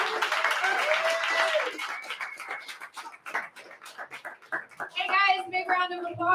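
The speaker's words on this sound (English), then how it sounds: "big round of applause for TJ Jones, a very funny comedian." Audience applause and cheering at a comedy open mic night, a burst of clapping at the start that fades into scattered claps, with voices and chatter mixed in.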